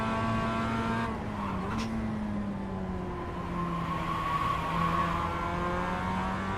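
A Mazda MX-5 in a racing video game revs hard and shifts through the gears, its engine note rising and falling steadily while the tyres squeal faintly under load.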